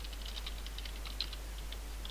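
Light typing on a computer keyboard, a quick run of soft key clicks heard alone over a steady low hum.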